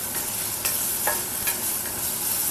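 Tomatoes for a Kerala-style prawn roast, cut into large chunks, sizzle steadily in a pan while a spoon scrapes and stirs them in a few distinct strokes, close and clear with no talking.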